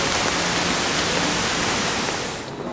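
Indoor waterfall inside a Dubai airport terminal, a dense steady rush of falling water close by, drowning out other sound until it eases slightly at the very end.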